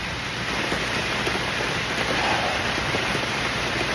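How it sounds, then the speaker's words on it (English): Rain falling on trees in a forest on an afternoon, a dense, even hiss of drops pattering on leaves that stays steady and close throughout, with no voices. "listening to the rain out, you know, coming down on the trees in the forest before it's even here"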